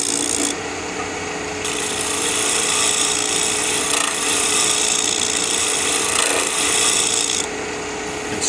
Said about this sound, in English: And scrape that final shape in.